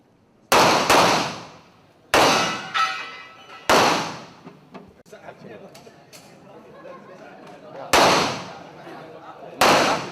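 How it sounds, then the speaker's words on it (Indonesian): Real pistols fire at a shooting practice held for journalists and army troops in Jakarta, a series of sharp, loud cracks spaced a second or two apart, with a fainter shot and crowd chatter in the gaps between them. "Menembak dengan pistol sesungguhnya tidak bisa asal tembak"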